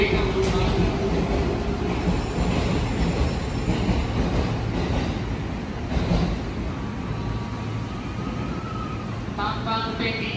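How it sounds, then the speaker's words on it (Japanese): A JR East 209 series 2200 train (B.B.BASE) rolls steadily through a station, with a continuous rumble, wheel noise and faint squeals against the platform ambience. "列車が動いております。"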